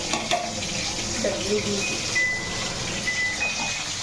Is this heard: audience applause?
no